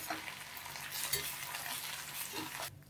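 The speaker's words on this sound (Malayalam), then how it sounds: "ഇനി നമുക്ക് നാളികേരം കൂടി വറുത്ത് ചെറുതിയിലിട്ട് വറുക്കണം" Grated coconut roasts in a pan, with a steady sizzle and soft scraping of a spoon stirring it, close and fairly quiet, cut off abruptly at the end.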